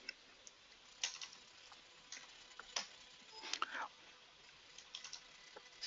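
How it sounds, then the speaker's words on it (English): Sparse, quiet clicks of keys being tapped on a keyboard, irregular and soft against a near-silent background. "We're just typing in a order number."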